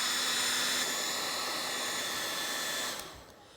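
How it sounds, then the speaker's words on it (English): A hair dryer blows hot air over a freshly painted clay sculpture of an Indoraptor head, a steady loud whooshing hum that runs without a break and then tapers as it moves away or powers down near the end, with no voices. "take the hairdryer and we're going to dry it"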